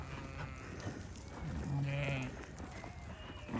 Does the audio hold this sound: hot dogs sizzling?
no